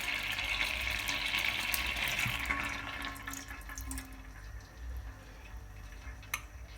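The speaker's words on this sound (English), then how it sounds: "So I'm adding red wine." Red wine pours into a cooking pot on a stovetop for a pot roast reduction, a steady liquid splashing and filling sound that starts strong, then thins out and trails off with a few small drips near the end.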